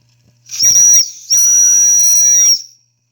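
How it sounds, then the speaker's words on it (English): A steam whistle on a steam engine blows two close, loud, shrill blasts: a short one, then a longer steady one that tails off into a faint hiss. "A little bit of a steam whistle."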